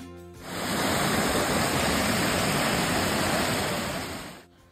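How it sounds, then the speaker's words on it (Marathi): White water rushes down a mountainside waterfall on a rainy day in rural Maharashtra, a steady, loud, broadband roar that fades up at the start and drops away near the end. "डोंगरावरनं वाहणारं हे पांढरं शुभ्र पाणी"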